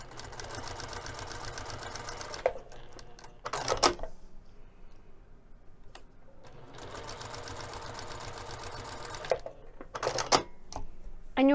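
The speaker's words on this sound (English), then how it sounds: "we're going to sew both of the long edges using 1/8 of an inch seam allowance" A sewing machine stitching the long edges of a fabric bag strap with a narrow seam, two sustained runs of rapid mechanical whirring, each ending in clicks and clunks as the fabric is adjusted, close and alone.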